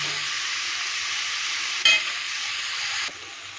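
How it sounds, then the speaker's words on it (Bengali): Spices with chopped tomato, chili, salt, turmeric and cumin powder sautéing in a pan for a pumpkin and potato curry, a loud steady sizzle with one sharp stirring knock before the sound drops slightly. "ভালো করে মশলাটা কষানো হচ্ছে"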